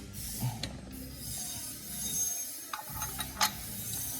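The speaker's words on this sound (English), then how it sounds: "Actually get my wrench back on there." Wrench turning and tightening a part during maintenance on a Cummins engine, giving a few soft ratcheting clicks and metallic ticks over a steady hiss, close by and fairly quiet.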